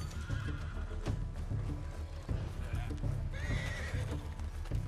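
A horse in Red Dead Redemption 2 lets out a whinny amid clip-clopping hooves and ambient game sound, fairly quiet and somewhat distant, with other game noise mixed in.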